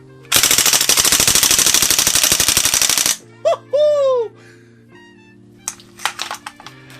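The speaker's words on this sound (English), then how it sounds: "Let's go full auto." A Canadian Long Branch 1943 Sten MkII airsoft gun fires one long full-auto burst of rapid, loud, even snaps lasting about three seconds. Scattered clicks and light handling noises follow.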